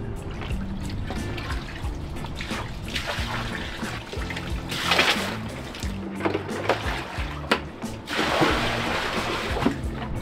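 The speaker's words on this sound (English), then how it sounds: "I don't really have a pump, so yeah, I'll just clear out the water." Water being scooped and cleared by hand from the cockpit of an ocean-going catamaran without a pump, repeated sloshing, splashing and trickling, close and fairly loud, no talk.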